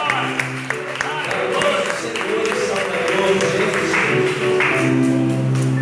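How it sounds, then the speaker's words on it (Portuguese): A church congregation gives strong applause, sustained clapping that fills the room while voices carry on over it. "dá uma salva de palmas bem forte"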